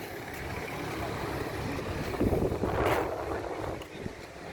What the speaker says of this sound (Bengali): এটা সেই স্পিড বোট।